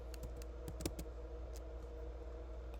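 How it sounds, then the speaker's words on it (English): Soft, scattered key presses on a computer keyboard, a handful of light taps over a few seconds, close but quiet above a steady low room hum. "you go to dexscreener.com, type in Icosa"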